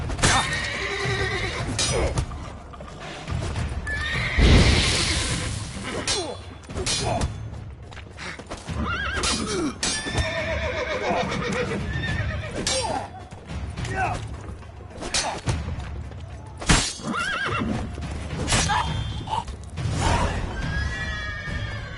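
Horses whinny and neigh repeatedly in the video game The Witcher 3, over a dense, busy soundscape with hoofbeats and mechanical creaks, loud and close, with voices talking at times.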